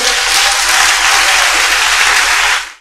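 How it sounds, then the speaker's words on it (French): A church congregation bursts into loud, dense applause and cheering, a steady wall of clapping close and full for nearly three seconds before it cuts off abruptly. "Acclame Jésus très très fort."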